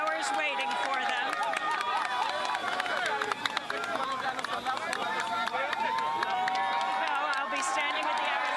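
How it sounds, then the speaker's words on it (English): A large crowd gathers at an airport in Haiti awaiting the Aristides' arrival, a steady dense babble of many voices and movement with scattered claps and cheers, close and continuous throughout. "There is a mass crowd here."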